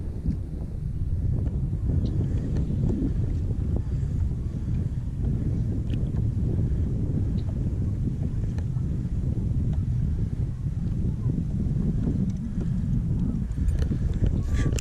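Wind blows across choppy open water during summer kayak fishing under sunny skies, a constant low rumble buffeting the microphone with faint small splashes and knocks and no talk.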